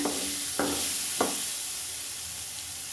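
Potato and brinjal pieces fry in oil in a pan for a potato brinjal sabzi, giving a steady close hiss with a few soft stirring scrapes early on, then settling into an even sizzle.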